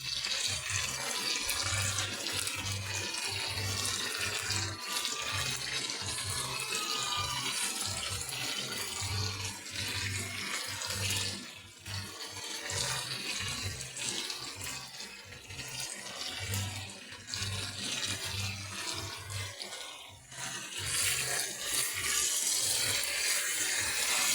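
Kitchen tap water running steadily while cooking with oyster sauce and pepper, a continuous close splashing stream lasting over twenty seconds with no talking.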